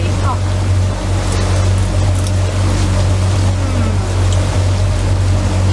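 A boat's engine drones steadily and close throughout a river ride, a low constant rumble with water wash beneath it and no clear voices.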